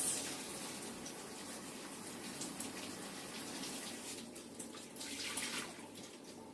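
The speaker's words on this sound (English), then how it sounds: "Let me just wash my hands." Kitchen tap water running steadily into a sink as hands are rinsed, a soft continuous splash and hiss with small shifts in flow, faint and close, no talking.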